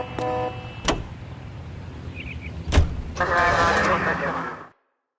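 Car driving in the detective video game L.A. Noire, a steady vehicle rumble with a door-like thump and a short mechanical whir, mixed with game music and voices talking.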